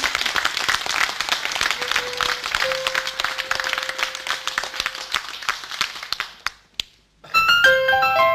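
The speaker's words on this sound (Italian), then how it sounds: "Con l'applauso, vai!" TV studio audience applauding a singer on a Neapolitan music show, dense clapping that thins and fades to near silence before music starts up at the end.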